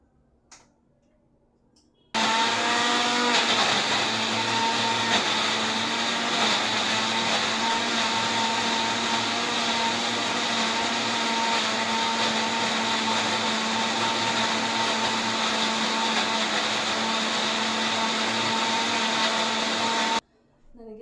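A kitchen mixer grinder fitted with a bullet jar runs steadily for about eighteen seconds, a loud continuous motor whine with a constant hum, starting abruptly and cutting off at the end.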